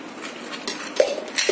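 Sugar being mixed into lassi in a vessel, with a utensil scraping and clinking against the sides in short, uneven strokes, close and fairly loud, without talk.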